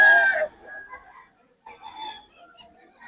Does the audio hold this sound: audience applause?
no